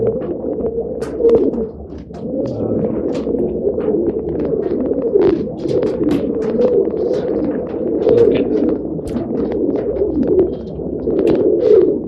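A flock of pet pigeons in a loft coos continuously, many soft, overlapping throaty calls close by with scattered wing flutters and scrapes, no voices.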